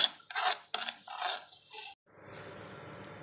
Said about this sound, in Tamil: நாம் நல்லா வந்து இப்படி நல்லா கிண்டி கொடுக்கணும்